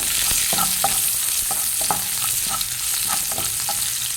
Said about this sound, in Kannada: ಸ್ವಲ್ಪ ಬೆಳ್ಳುಳ್ಳಿ ಕಟ್ ಮಾಡಿ ಇಟ್ಕೊಂಡಿದ್ದೇನೆ, ಅದು ಹಾಕ್ತೇನೆ. ಹಾಕ್ಕೊಂಡು ಸ್ವಲ್ಪ ಫ್ರೈ ಮಾಡಿಕೊಳ್ಳುವ